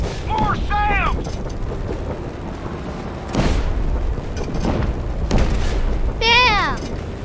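Bomb explosions in Just Cause 3 boom in a couple of broad, rumbling bursts within chaotic game noise, while a voice talks and calls out over the action.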